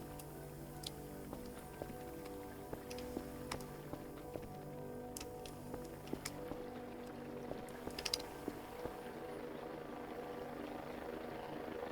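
A drone hums steadily and low in the game Voices of the Void. The hum stays faint and constant throughout, with scattered small ticks and clicks on top.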